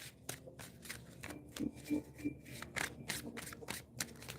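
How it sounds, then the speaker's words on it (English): Tarot cards shuffled by hand during a reading, giving a run of soft, rapid riffling and papery slaps at low, close level with brief quiet gaps. "So I'm going to shuffle one more time"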